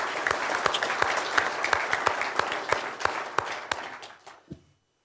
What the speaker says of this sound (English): If you join me in a round of applause for the candidates for turning up tonight.